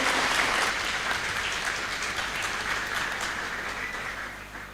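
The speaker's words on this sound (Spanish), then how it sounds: "quisiera pedir un fuerte aplauso para nuestros expositores de la noche." Audience applause for the evening's speakers at an education, culture and politics colloquium, a steady dense clapping that starts loud and slowly fades over several seconds.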